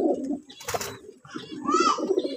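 Nildumba Kamagar pigeons coo in repeated low, throaty rolls close by, with a brief rustle partway through and no talking.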